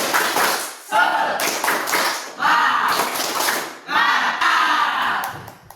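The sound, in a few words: group clapping the 'tepuk semangat' spirit clap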